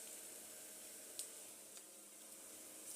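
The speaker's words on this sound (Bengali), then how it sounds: "এখন আমি একটু এটার ভিতরে চাপা শুটকিটা ভাজে নিব।" Dried chapa shutki fish frying in a pan with browned onions, a steady soft sizzle and hiss running throughout with a few faint pops and clicks, heard alone without voices.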